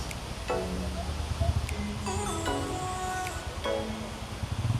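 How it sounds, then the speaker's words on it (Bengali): Amitabh Bachchan Falls, a tall waterfall on the road to Lachung in North Sikkim, roars as a steady broadband rush under strong gusting wind, with faint voices partly buried in the noise. "প্রচণ্ড হাওয়া দিচ্ছে আর এখন আমরা ফলসের সামনে দাঁড়িয়ে আছি"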